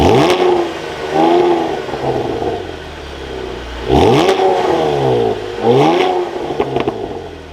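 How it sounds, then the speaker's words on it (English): A 2023 Chevrolet Camaro Convertible 2LT RS engine runs loud and close, revving up in repeated sweeping blips with brief settles between, no talking. "But let's fire this Camaro back up."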